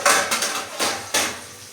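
A lid is set on a pan of cooking potatoes and capsicum with a few sharp metallic clanks and clatters in quick succession, close by, then settles.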